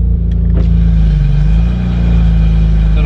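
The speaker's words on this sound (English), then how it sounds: "Little cold start for you guys." A BMW F80 M3 engine firing up cold and settling into a loud, high idle with a deep, steady drone and a brief rev swell, heard close by.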